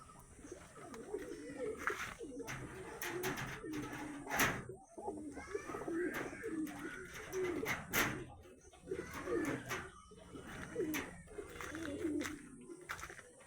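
Pigeons coo steadily inside a loft housing male pigeons, the murmuring calls overlapping continuously at moderate loudness, broken by occasional sharp clicks and knocks.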